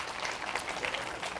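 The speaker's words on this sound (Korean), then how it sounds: "박수" Brief applause from a small classroom audience, a light burst of clapping heard on its own.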